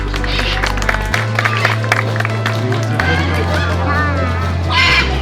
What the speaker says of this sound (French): voici donc Gisèle, vous pouvez l'applaudir.